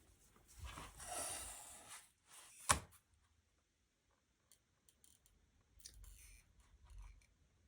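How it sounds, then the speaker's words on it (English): Scissors or a blade cutting fabric diamond strips along ruler marks, heard as a few soft, close snipping and slicing passes with a sharp click in between and quiet gaps. "And continue cutting."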